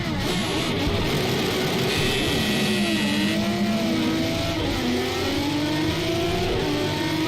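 A race car engine in a racing video game revs steadily, its pitch rising and falling through gear changes, loud and continuous with no talk over it.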